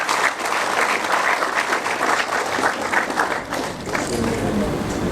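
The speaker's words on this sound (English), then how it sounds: "Let us clap for ourselves as students." Students at an engineering institute induction and inauguration ceremony in Kumasi, Ghana, applaud themselves: dense, steady clapping from a large group that fills the room for about five seconds, with a few scattered voices mixed in.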